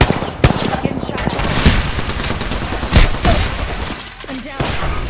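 Rapid video game gunfire in Apex Legends striking the player, a dense loud barrage of shots and impacts with sharp cracks, continuous and close, with game effects layered over it.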